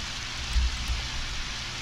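Steady rain falls in the Undertale video game, a soft continuous hiss with a couple of slightly heavier low thumps partway through, no voices over it.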